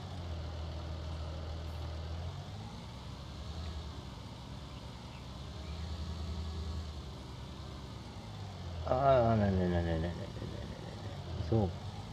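Tractor engine idling in Landwirtschafts-Simulator 19, a steady low rumble throughout, while someone talks over it near the end.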